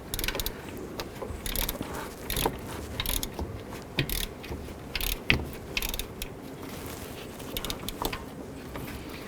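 Ratchet wrench snugging down the alternator bolts on a 2004-2009 Dodge Durango, heard as continuous rapid clicking and metallic ratcheting up close, with no talking.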